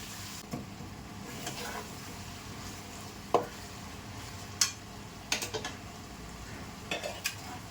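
Tomatoes sautéing in a pan for a pepper chicken gravy, with a low steady sizzle and scattered sharp scrapes and clinks of a spoon stirring against the pan, fairly close and with no talk.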